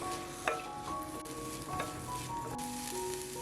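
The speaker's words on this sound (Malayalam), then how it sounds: "ഇതും ഒരുമിച്ച് വഴറ്റിയെടുക്കണം." Diced potatoes and a small cut carrot sautéing together in oil for a Kerala-style mutton stew, a faint, steady sizzle with a few soft clicks of stirring scattered through.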